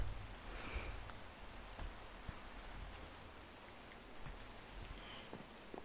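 Steady, faint rain falling in the Minecraft video game, an even hiss of drops with a few soft ticks and no voices.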